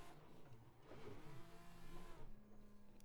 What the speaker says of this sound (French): Petit drift, il était pas mal celui-là en contre, en épingle comme ça